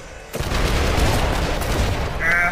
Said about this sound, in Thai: มันระเบิดมานะครับ